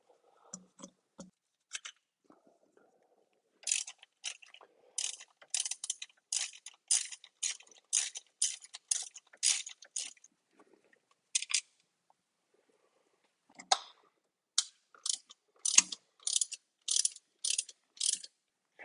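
Screws being backed out of the distributor cap on a Nissan B14 200SX SE-R: close, crisp bursts of ratchet clicking in quick runs, with pauses between groups.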